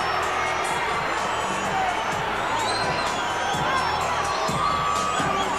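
Boxing arena crowd at the Roy Jones Jr. vs James Toney fight, a loud sustained roar of cheering and whoops from a large audience with voices mixed in.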